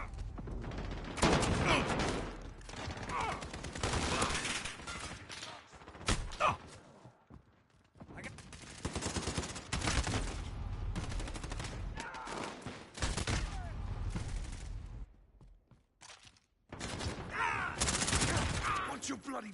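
Gunfire fills a Modern Warfare match, with dense bursts of automatic rifle fire and rapid shots in loud clusters, separated by brief lulls, and voices calling out over the shooting.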